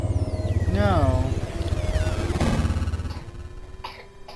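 Someone sick coughing indoors near a projector and game setup, a few short harsh bursts mixed with close voices.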